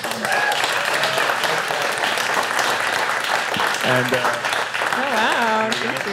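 Steady, full applause from an audience thanking a speaker at the end of her talk, with a voice speaking over the clapping toward the end.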